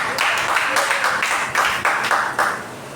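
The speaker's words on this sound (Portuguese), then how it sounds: "Vamos receber a irmã com as palmas bem alegres para Jesus." A church congregation claps cheerfully to welcome a sister, with rhythmic, fairly loud group clapping in steady pulses, a muffled voice faintly underneath.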